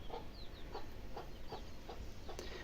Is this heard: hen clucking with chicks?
yes